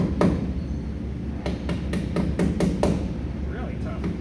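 A hammer-on wheel balance weight is driven onto a tire rim with a series of sharp metallic taps, one early strike followed by a quick run of about seven evenly spaced blows, close and clear over a low shop hum.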